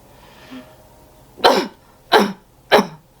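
A person coughs during a postural drainage demonstration: three sharp, loud coughs spaced about half a second apart, close to the listener, preceded by a faint breath.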